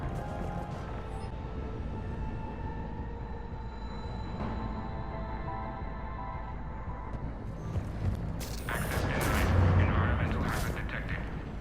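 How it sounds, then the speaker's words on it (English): Heavy cannon fire in the Mass Effect 3 Legendary Edition mission on Omega: a steady rumbling, humming din of battle, then a loud, sustained blast of booming, crackling noise near the end, close and dominant. "Those cannons have to be stopped."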